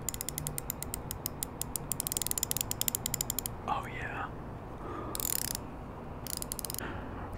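Socket wrench being ratcheted in a garage, rapid close clicking of the pawl in quick bursts, with soft whispering heard in between the rounds of clicks.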